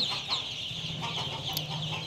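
A group of White Pekin ducklings being loaded for sale makes steady, close chattering calls, a continuous overlapping clamour with a few sharper peeps, with no talking.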